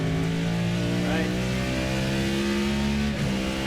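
An RSS MP-H Callahan race car in the video game Assetto Corsa screams at full revs, a continuous high-pitched engine wail holding steady with a slight shift near the end, with speech faintly underneath.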